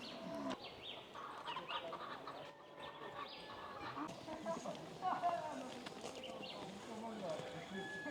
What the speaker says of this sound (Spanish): Siempre cuando hay vacas, como por aquí, siempre hay también aves.